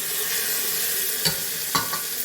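Onions with ginger garlic paste sauté in a pan for an aloo mutton curry, a constant frying hiss with a few brief scraping stir sounds, close by and without speech.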